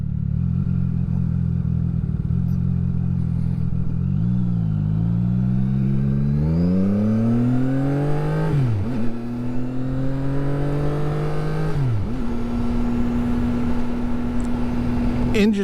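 A CF Moto 675SS sport motorcycle engine pulls while riding, its steady drone climbing through the gears with sharp drops at each shift, then settling into an even cruise, loud and close.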